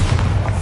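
A Bombarda blasting spell goes off in Hogwarts Legacy, a short, heavy booming blast with a deep low thud that fills the moment, loud and close, with no speech over it.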